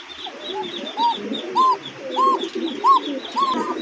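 A pair of tiger-coloured pigeons coo close by in repeated rising, rounded calls about every half second, with softer chirps and rustling between the coos.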